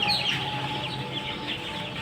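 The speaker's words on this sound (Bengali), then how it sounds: "আপনারা দেখতে পাচ্ছেন চীন হাঁসের বাচ্চা ছোট চীন হাঁসের বাচ্চা" Small Muscovy ducklings, under a week old, peep and chirp continuously, a busy cluster of high calls close by over a steady background hum.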